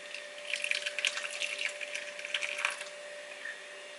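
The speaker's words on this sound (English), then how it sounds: "I'm just going to pour this onto the cheesecloth." Date syrup mixture poured onto cheesecloth to strain, a wet, slurping pour with soft sloshing over a steady background hum, lasting a few seconds before fading.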